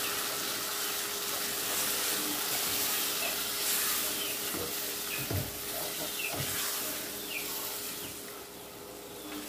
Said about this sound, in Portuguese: Colocar um pouco de água para cozinhar as salsichas.